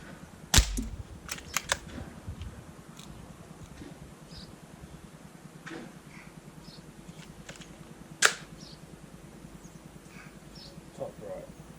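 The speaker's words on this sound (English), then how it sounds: "that's a couple of practice shots" Pistol practice shots at a 6-yard shooting competition: a sharp report near the start with a few quick following cracks, then another single shot later, short and fairly loud over a quiet background.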